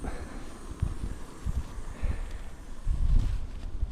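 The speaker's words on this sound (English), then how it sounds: "It's a pretty beautiful spot, but it's very windy." Gusty wind at a riverside campsite buffets the microphone with low rumbling surges that swell and fade, growing stronger toward the end, with no voices.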